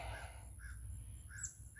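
Crows caw a few times out in a field, several short calls spread apart against a steady low rumble of background noise.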